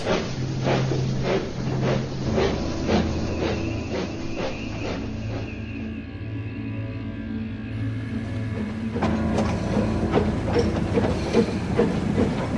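A train rumbles steadily along the tracks with rhythmic clickety-clack from the wheels, a low continuous drone underneath, fairly close and loud.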